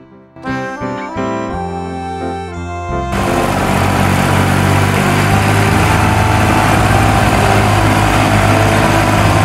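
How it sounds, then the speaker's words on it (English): A loud, steady engine drone settles in after a few seconds of brief musical tones, running continuously at close range with no talking. "Tractor."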